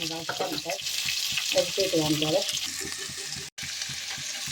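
Pork sizzles and spatters in a hot pan with popped mustard seeds, a dense steady crackle running throughout while being stirred, with someone talking over it.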